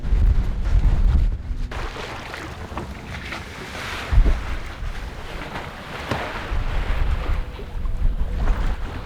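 A Seawind 1600 catamaran under sail off the coast, with the engine off, the jib set: steady loud rush of wind noise and sloshing waves along the hull, with gusty swells and no voices.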